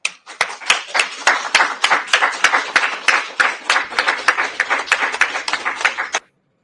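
Audience clapping in a steady run of sharp, evenly spaced hand claps lasting about six seconds before stopping abruptly, with no talk over it.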